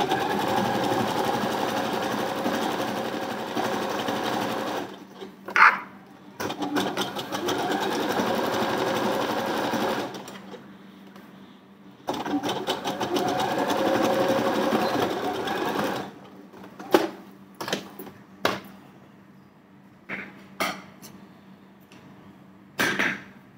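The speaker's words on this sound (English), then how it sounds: "Come back reverse for the second round of stitching." A sewing machine stitches a blouse sleeve seam, running in long continuous whirring bursts, stopping, then reversing for a second round of stitching, followed by a few short starts and clicks, loud and close with no talking.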